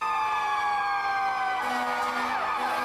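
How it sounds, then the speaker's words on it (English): Several fire truck and police car sirens wail together at a distance during a parade down a road, their pitches sweeping up and down and overlapping in a steady chorus. "they had fire trucks and police cars, and they were parading down the road with all their sirens on."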